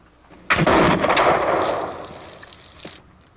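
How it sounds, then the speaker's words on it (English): A single loud muzzle-loading Pennsylvania longrifle shot cracks out, followed by a long rolling echo that fades over a few seconds in an open outdoor range. "That was good shooting, right."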